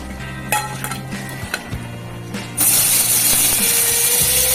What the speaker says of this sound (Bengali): এটা সিদ্ধ করা আলুকে লবণ আর হলুদ মাখিয়ে ভাজবো